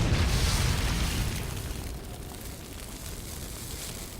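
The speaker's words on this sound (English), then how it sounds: "Grenade Launcher" A grenade launcher round bursts in the video game Resident Evil HD: one deep, close boom whose rumbling roar fades slowly into a low hiss over a few seconds.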